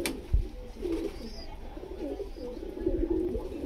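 Teddy pigeons coo in soft, low, throaty bursts, a pair of calls about two seconds apart, set against a faint background hum at a pigeon loft in Krishnagar, Nadia.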